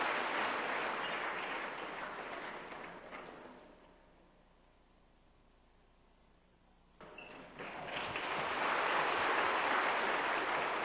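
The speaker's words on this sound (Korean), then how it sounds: "뜨거운 박수로 우리 환영하며 축하하십시다" A church congregation claps during a Sunday worship service. The broad, steady applause thins out to near quiet in the middle, then swells back up again loudly.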